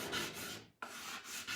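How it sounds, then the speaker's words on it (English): A flat scraper drags across still-damp paint in short, close rasping strokes, pausing briefly midway, to give a rustic, textured farmhouse finish. "So I'm just using like a flat scraper to do this, nothing fancy."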